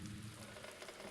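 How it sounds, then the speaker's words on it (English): Steady rain from the video game The Black Mirror, entering an old mansion room through a broken window, a dense continuous hiss of falling drops with no pauses. "The hole in the window lets cold wind and rain enter the room."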